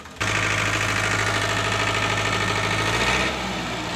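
Diesel engine of a New Holland 3630 special edition tractor stuck in mud, running loud and steady with a deep throbbing drone that eases slightly near the end.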